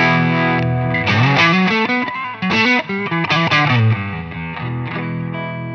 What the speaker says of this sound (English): So this is again, the sound of the amplifier. And I do have a couple of effects on here.